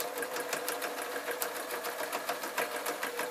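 A sewing machine stitching steadily at speed while binding an art quilt, a fast rhythmic clatter running continuously and fairly close.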